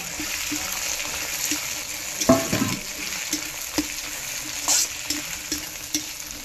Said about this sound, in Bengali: টমেটো কত কতক্ষণ ভাজা হবে এটা